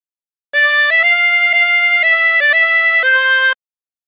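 A 16-hole tremolo harmonica plays a short phrase of Oh My Darling Clementine, about seven connected notes with a wavering shimmer, clean and close with no talking.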